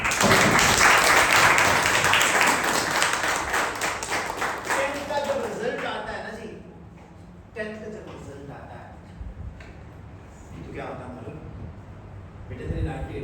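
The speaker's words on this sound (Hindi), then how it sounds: "इनके लिए बहुत जबरदस्त तालियां।" An audience at a school function claps loudly for the first six seconds, then the applause fades out and a few voices speak over faint room noise.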